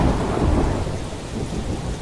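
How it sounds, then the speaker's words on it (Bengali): Heavy, steady rain pours down with rolling thunder in a radio drama, a dense continuous roar that fills the whole stretch at close range. "বাইরে সমানে পড়ছে বৃষ্টি।"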